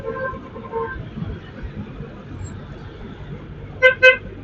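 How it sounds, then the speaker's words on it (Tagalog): A jeep horn gives two short, loud toots in quick succession near the end, rising above steady, murmuring road and traffic noise. "Yung busina na yun, yung jeep."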